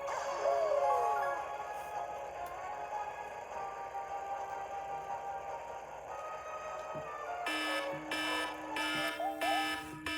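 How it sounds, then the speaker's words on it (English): A timer alarm going off during a Super Mario Galaxy gaming session, a loud repeating electronic beeping that cuts in over the game music in the last few seconds. "And there goes the timer."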